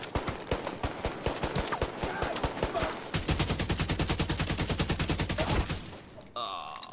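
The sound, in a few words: gunfire in the video game The Division 2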